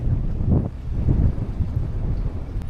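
Strong wind buffets a microphone beside the sea near bungalows on Tumbak island, Sulawesi, a loud, continuous low rumble with gusty swells and no voices.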